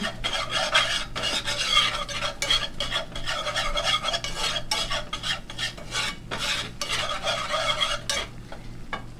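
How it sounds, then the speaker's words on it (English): A whisk scraping briskly around a pan of sauce seasoned with salt, pepper and mustard, rapid rhythmic rasping strokes repeated close and steady throughout. "Okay, keep whisking."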